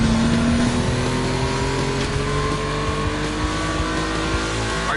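Volkswagen race cars on a track, engines droning and revving continuously with shifting tones, close and fairly loud, without any talking.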